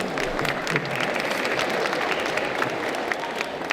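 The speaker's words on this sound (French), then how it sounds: "Applaudissements." Audience applause at a convention talk, a sustained dense burst of many hands clapping at close range throughout, with no voices over it.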